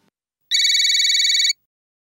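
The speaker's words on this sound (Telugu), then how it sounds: "మీ నెంబర్ నుంచి ఫోన్ వస్తుంది." A single electronic phone ringtone sounds for about one second, a bright steady warble, loud and alone in silence.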